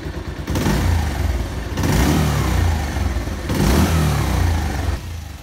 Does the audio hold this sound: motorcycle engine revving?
yes